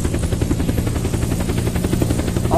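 An aircraft passes overhead for a supply airdrop in a video game, a steady, loud engine and rotor drone that fills the whole stretch without a break.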